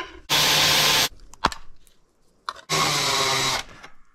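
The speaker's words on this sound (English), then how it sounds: "I'm pre-drilling all the holes for the mounting of the board to the wall." A power drill pre-drills mounting holes in a board for a wall mount. Two loud, steady bursts of whirring are heard, each just under a second long, with brief clicks and handling noises between them.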